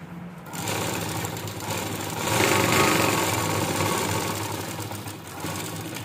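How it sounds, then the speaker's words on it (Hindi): Sewing machine stitching the shoulder seam of a kurti, a close, steady mechanical whir that rises briefly in the middle before settling, with no voices. "अब इसे डबल सिलाई करेंगे"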